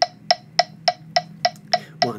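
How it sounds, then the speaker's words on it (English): Eight sharp, evenly spaced metronome clicks tick at a brisk steady 210 BPM, close and clear with nothing else around them. "if you're clicking with a metronome, sounds like this."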